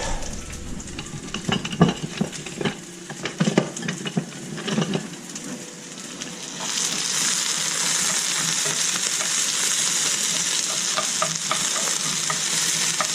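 Food sizzles in a pan with scraping stirs and utensil clatter at first, then settles into a steady, hissing fry.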